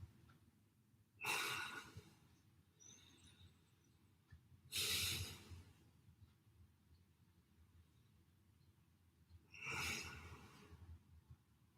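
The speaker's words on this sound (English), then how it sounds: "And then breathe it out." Three slow, audible exhalations during a home lower-body stretching workout, each a broad breathy rush lasting about a second, spaced several seconds apart over a quiet room background.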